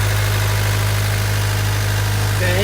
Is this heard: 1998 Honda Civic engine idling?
yes